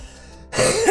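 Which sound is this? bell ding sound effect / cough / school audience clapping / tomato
cough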